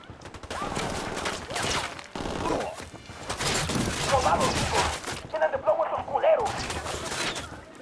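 Gunfire in Ghost Recon Wildlands during an attack on a boat lab, with heavy bursts of shots and impacts in several loud clusters separated by brief lulls, mixed with voices talking.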